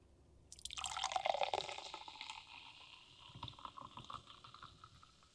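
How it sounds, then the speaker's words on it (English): Drink poured from a box inside a hot car, a gurgling liquid stream starting suddenly, strongest in the first seconds, then trickling and dripping more faintly. "Let's pour it."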